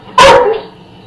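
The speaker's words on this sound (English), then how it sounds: "Goddamn dog." One sharp, loud dog bark close by, ringing briefly before fading into quiet.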